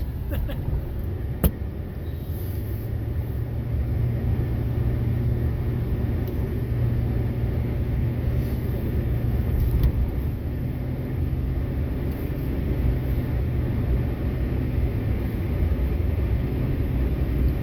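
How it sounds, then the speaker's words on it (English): A low, steady engine rumble and road drone from a 2002 Chevy Silverado pickup driving along, constant and fairly loud with no voices. "This truck does drive good."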